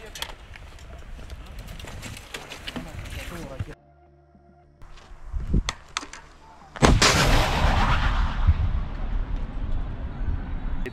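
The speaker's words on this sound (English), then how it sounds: "Вторая! Выстрел!" Anti-tank weapon fire in a combat zone: a sharp nearby crack, then a much louder blast that keeps ringing and rumbling, with people talking around the shots.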